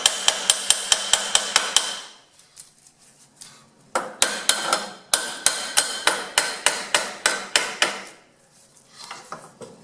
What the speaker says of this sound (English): Lots of little tapping and pulling.